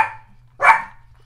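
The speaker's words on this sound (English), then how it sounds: "This is just a day for the dog to be crazy, isn't it?" A dog indoors barks twice, close and loud, with a short pause between the sharp barks over a faint steady hum.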